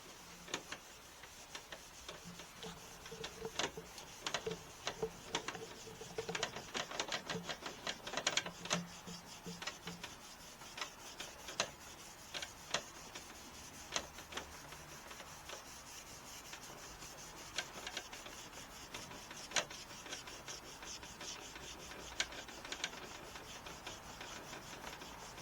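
Burnishing cream is worked onto a wooden gun stock, producing faint, close rubbing and scratchy strokes with scattered ticking clicks throughout, with nobody speaking.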